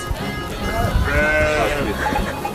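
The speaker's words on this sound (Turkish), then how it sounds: "Bu kuzucuklar ne yiyorlar?" Lambs bleating at a farm, several wavering cries close by over a few seconds, with a voice talking underneath.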